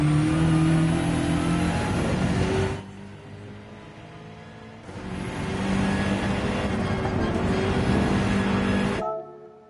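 A race car engine in Gran Turismo 7 pulls hard with a loud, steady high-revving note, drops away briefly as the driver lifts off, then surges back before cutting off abruptly near the end.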